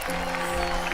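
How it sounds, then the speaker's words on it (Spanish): Brief burst of audience applause at a festival concert for the band's bass player, a continuous wash of clapping that fills the moment. "fuerte ese aplauso"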